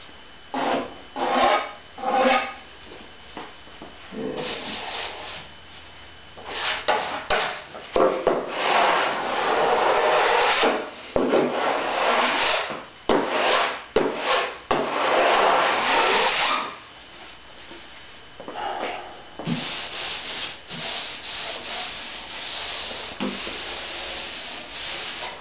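A drywall knife scrapes excess joint compound off taped drywall seams, giving repeated rasping strokes, some short and some long and sustained, close and loud, with no talking.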